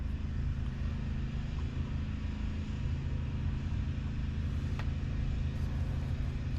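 A Ford 460 big-block V8 idles steadily, close by, in the middle of an engine swap, a deep, even low rumble held for several seconds with no talk over it.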